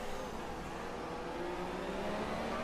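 A McLaren race car's engine in an onboard view from a racing video game, set at Abu Dhabi in the rain, drones steadily and loudly throughout, a continuous high-revving whine with no talk over it.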